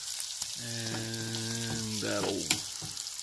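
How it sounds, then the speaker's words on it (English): Spinach being stirred into noodles in a pan while camping in a campervan, with a steady frying sizzle and a brief clatter of stirring; a voice speaks faintly over it. "Give that a stir."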